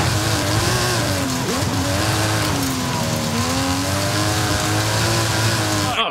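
An Aston Martin driven in the racing game Forza Horizon 5, a loud, steady engine drone with shifting pitch as it revs and cruises, continuous throughout with no speech.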